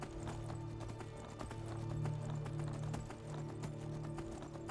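Horse hooves clip-clop in Skyrim, a steady run of hoof taps under a soft ambient hum at moderate level, with no talk.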